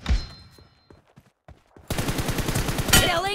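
Sharp gunfire in PUBG Mobile: a single loud shot fading into near silence, then a sustained rapid burst of automatic fire up close.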